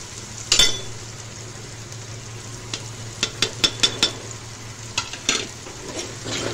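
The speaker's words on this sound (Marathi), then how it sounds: "मसाले आपण चांगले परतून घेऊया।" Spices and tomato frying in a pan for Indian egg curry, with a steady low sizzle and a few sharp stirring clicks and scrapes of a spoon against the pan; no talking.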